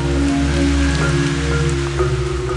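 Tropical storm-season rain falls on an island, a steady dense hiss of drops on surfaces, heard close and continuous with tonal music underneath.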